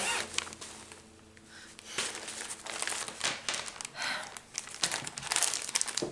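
Plastic packaging of a cross-stitch kit crinkles and rustles close up as it is handled, in irregular crackling bursts with brief quieter gaps.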